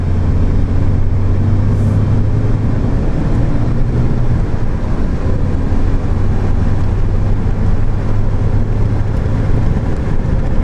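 A Renault Megane RS 265 driven on a race circuit, its engine a steady loud drone with heavy wind rush throughout, recorded close from inside the car with no voices.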